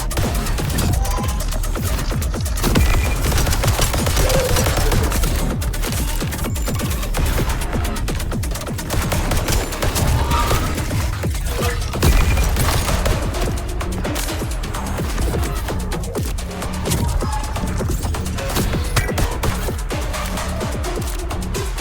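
Dense, rapid gunfire crackles almost without pause in the video game VOID/BREAKER, loud and close, with scattered crashes and impacts throughout.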